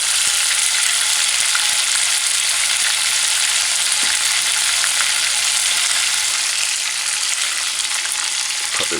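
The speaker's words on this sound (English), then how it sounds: "So put the stove gauge on high, very high. Remember, we just want to fry it and brown it." Chicken skin frying in oil over very high heat makes a loud, dense, continuous sizzle that holds steady from start to finish with no talking.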